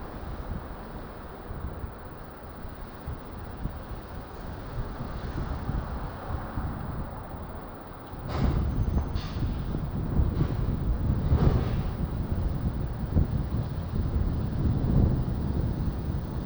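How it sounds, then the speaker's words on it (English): Wind buffets a phone microphone outdoors in a breeze, a steady rushing roar that swells louder halfway through with gusty thumps, no talking. "Can you hear the wind?"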